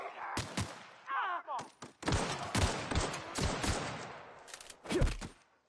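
Shots ring out in The Outer Worlds, sharp, loud and near: scattered single bursts and short volleys separated by brief gaps, with some voices mixed in between.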